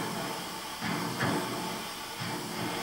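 A steam engine runs with a steady, faint hiss and a few soft, rhythmic surges that swell and fade, with no voices.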